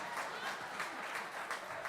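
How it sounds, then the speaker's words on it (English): Audience at a live comedy show at Sony Hall clapping steadily, a dense continuous patter of many hands filling the room at moderate volume with no talk over it. "Clapping, this side."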